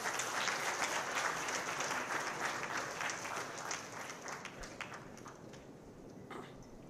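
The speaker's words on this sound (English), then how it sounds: "A huge round of applause, please." Large audience clapping for a keynote address by the Chief Minister at a Maharashtra maritime board event, dense sustained applause from a big hall that slowly thins toward the end, heard at a moderate distance.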